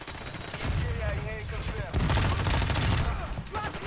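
Rapid bursts of gunfire in the video game Warzone 2, including shotgun blasts from a running enemy, crackle in dense clusters with a louder stretch midway, while game voices and chatter run underneath.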